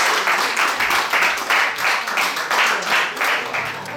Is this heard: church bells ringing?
no